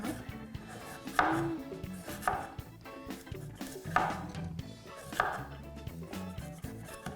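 Broccoli stems peeled with a knife, a series of close, rhythmic cutting strokes against a board, roughly one every second, with faint background music.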